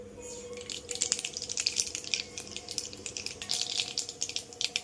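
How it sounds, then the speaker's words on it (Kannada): Mustard seeds splutter in hot oil in a pan, a steady close crackle of tiny pops and sizzling spits over a faint background hum. "ಎಣ್ಣೆ ಚೆನ್ನಾಗಿ ಕಾದಿದೆ. ಈಗ ಇದಕ್ಕೆ ಸ್ವಲ್ಪ ಸಾಸಿವೆ ಹಾಕ್ತೇನೆ."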